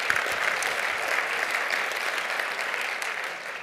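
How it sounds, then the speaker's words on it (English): An audience at a cloud networking tech presentation gives a steady, dense round of applause that fills the room evenly for several seconds without voices. "Let's give them a round of applause."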